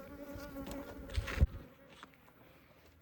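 A brief, close buzz of Africanized honey bees droning for about a second, then fading to quiet.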